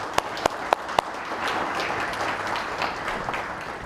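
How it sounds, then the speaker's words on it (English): Steady, dense applause from a crowd at an awards banquet fills the room, with a few sharp individual claps standing out near the start. "So let's give these professors another round of applause."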